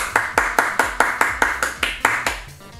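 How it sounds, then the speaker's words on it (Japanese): About ten rhythmic, evenly spaced claps, close and crisp, from a single person, one clap roughly every quarter second, ending in a short quiet tail. "拍手。"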